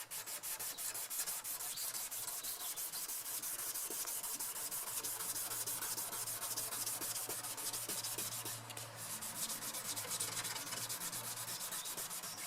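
A Peugeot 206 headlight is sanded by hand, producing a continuous close, rough rasp of abrasive scrubbing back and forth across the plastic lens, steady and loud throughout with no voices.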